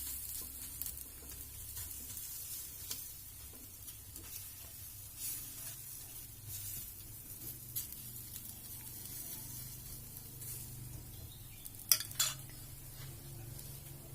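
Tomato omelette batter spread thin in a pan, cooking with a soft steady sizzle, plus a few faint utensil clinks and a sharper clatter near the end.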